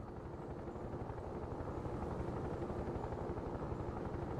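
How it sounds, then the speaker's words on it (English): Steady, close helicopter rotor thrum from World In Conflict, a dense low pulsing chop that holds at even loudness throughout with no talking. "I wonder if you could go and shoot down this helicopter."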